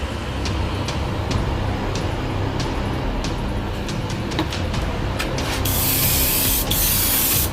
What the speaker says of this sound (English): that air compressor is probably going to kick on in a minute. It's going to get loud.